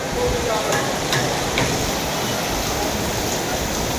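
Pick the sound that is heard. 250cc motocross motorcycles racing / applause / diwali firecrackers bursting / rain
rain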